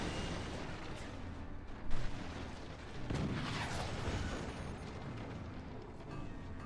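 Cannon fire from a video game: a booming blast around two seconds in, then a broad rumbling burst with a descending sweep near three seconds, all over a steady low din of battle noise, with no speech.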